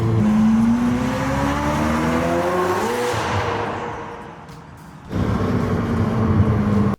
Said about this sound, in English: just the sound of the exhaust system going underneath the bridge here